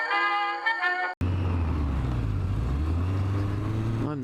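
A 1997 Yamaha Diversion motorcycle being ridden, its engine droning steadily and close after a brief break, with a low harmonic hum and rising pitch near the end.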